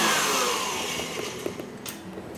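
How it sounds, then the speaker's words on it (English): Electric mixer whisking Italian meringue buttercream, a steady broadband motor whir that holds loud and constant, with faint scraping ticks near the end. "I'm going to now let this whisk for another 20 or 30 seconds"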